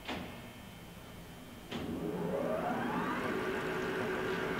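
A Blanchard #18 42-inch rotary surface grinder with a 25 horsepower spindle motor starts its wheel, a sudden mechanical clunk followed by a steady hum and a rising whine as the spindle spins up.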